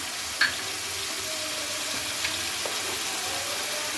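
Spices sizzle and fry steadily in a pan for aloo bhujia, with salt, ground and crushed red chilli, turmeric and ground coriander. The crackle is continuous and close, with a few faint clinks of a spoon.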